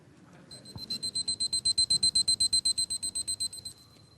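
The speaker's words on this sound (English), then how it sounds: "It's my kitchen timer." A kitchen timer rings in a rapid, steady run of bright electronic beeps lasting about three seconds, loud and close over a quiet room with faint low background noise.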